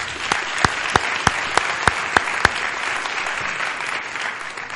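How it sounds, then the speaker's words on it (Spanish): Loud applause from an audience, a dense steady patter of many hands with a few sharper claps standing out early on. "Un aplauso para la doctora."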